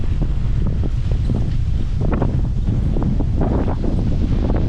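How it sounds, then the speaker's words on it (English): A strong headwind buffets the microphone while cycling along the Elbe river path, a loud, steady rumbling roar with gusty flutter throughout and no voices. "You can hear the wind and see the extra effort it required in these clips."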